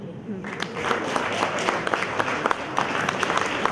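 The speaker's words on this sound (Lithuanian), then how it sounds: "galite atsistoti paploti jiem" A seated audience at a Lithuanian event stands and applauds, a steady dense wash of many hands clapping that runs the whole stretch, fairly close and loud with a few sharper claps standing out.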